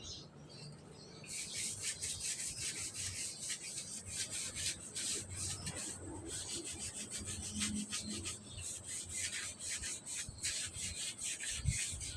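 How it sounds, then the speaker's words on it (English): Hands being scrubbed to remove deeply embedded mold and mildew, giving a continuous close, brisk rubbing and scraping sound in rapid repeated strokes. "it looks like I still got to scrub some of this off my hand"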